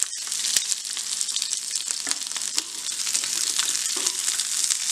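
Chopped capsicum and onion sautéing in hot oil, a loud, dense sizzle that holds steady throughout, with a few soft spatula knocks breaking through.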